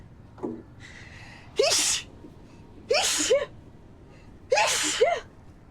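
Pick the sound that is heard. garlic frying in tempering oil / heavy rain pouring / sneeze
sneeze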